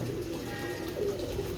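Pigeons coo softly in a low, rolling murmur at moderate distance, a continuous throaty burble with no talking over it.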